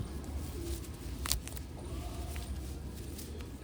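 Breeder pigeons coo softly in a low, steady murmur, with a brief sharper chirp partway through and no voices.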